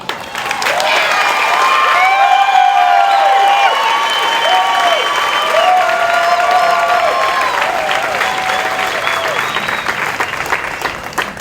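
Family and friends in the stands at an Air Force 324th Training Squadron coin and retreat ceremony applaud and cheer loudly and continuously, a dense roar of clapping threaded with high shouted voices throughout.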